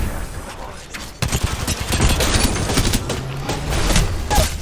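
Rapid weapon fire in the game Apex Legends crackles in bursts, punchy and close, with thuds and explosions mixed in and a voice speaking briefly between shots.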